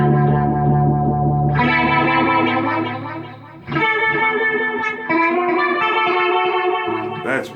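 A 1952 Fender Telecaster's rear pickup played through an amp with a heavy phaser effect, loud sustained chords with swirling, sweeping tone, changing a few times across the phrase.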